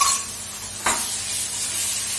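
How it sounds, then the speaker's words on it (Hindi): Ground tomatoes drop into hot masala in a pan, a sudden loud burst of sizzle that settles into a steady close hiss with a brief stir at the moment they land. "अब इसमें टमाटर डालेंगे"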